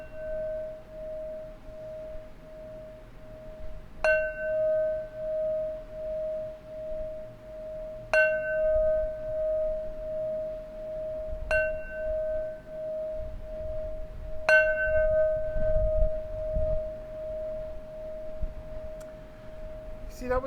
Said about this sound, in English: So here's the bells, because I feel this needs bells.